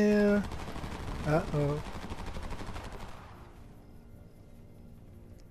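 Gunfire in the Homefront video game, a rapid run of shots among foliage that fades toward the end, with a short spoken exclamation over the top.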